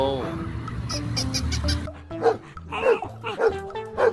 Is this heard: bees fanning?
no